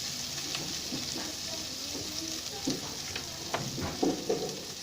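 Onions for a dhaba-style tarka daal mash frying in a pan and being stirred toward light brown, a steady hiss of sizzling with scattered soft spoon scrapes growing busier near the end.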